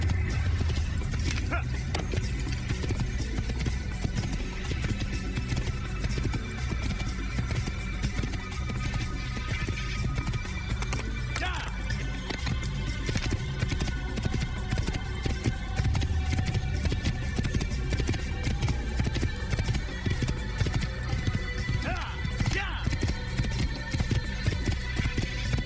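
Horse hooves clatter in a steady rapid gallop for a long stretch in Assassin's Creed, with occasional whinnies and faint voices over a busy game soundscape.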